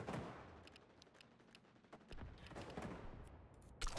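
Rapid video-game gunfire in XDefiant, a dense barrage of shots with sharp bursts across the clip and a loud burst near the end, no talking.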